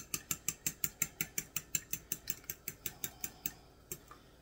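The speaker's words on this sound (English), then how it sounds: "We're going to whisk all these eggs." Eggs being whisked in a bowl for breakfast, a fast steady run of about twenty light metallic clicks at a regular beat, close and fairly quiet, slowing slightly near the end with no talking.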